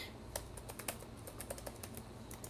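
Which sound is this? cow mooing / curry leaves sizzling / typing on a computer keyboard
typing on a computer keyboard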